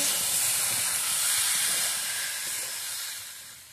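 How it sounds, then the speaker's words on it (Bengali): A bowlful of water poured into a hot pan with raw banana curry sends up a loud, broad hiss of steam that runs steadily and fades slightly toward the end, close and alone without speech. "আমি 1 বাটি মতো জল দিয়ে দিলাম"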